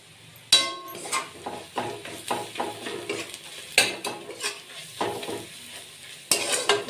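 A spoon stirs spice masala of chilli powder, coriander powder and garam masala in a pan for egg biryani, producing repeated scraping and clanking strokes over a soft sizzle.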